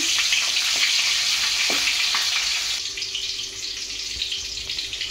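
Green chillies sizzle and crackle in hot oil in a pan, a loud, continuous frying hiss up close that eases partway through, with no voices.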